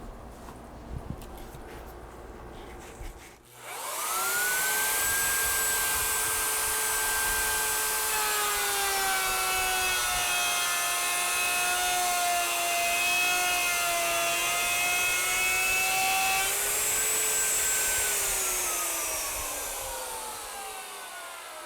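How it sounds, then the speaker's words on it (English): A router mounted on an EZSMART SSRK cuts a groove in wood, starting after a brief pause and holding a loud, steady whine with shifting pitch for about eighteen seconds before tapering off. "we're ready to go to route the next groove"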